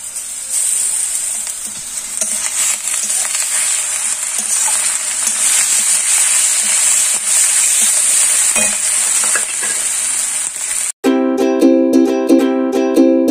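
Ginger-garlic paste with cumin, chilli and turmeric powders frying in a pan: loud, continuous sizzling with stirring scrapes and occasional clinks, then an abrupt cut to a short burst of music.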